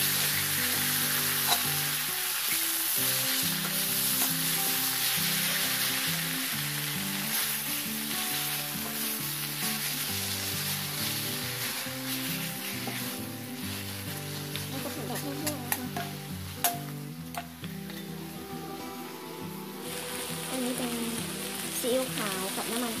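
Hemp leaves with garlic and oyster sauce stir-fry in a hot pan. A continuous sizzle crackles close by, with stirring and scraping now and then, over background music.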